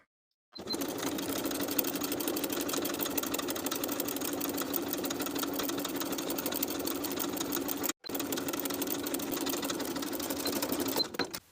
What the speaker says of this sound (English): Then we can edge stitch along the top of the hem from one center front straight across to the opposite center front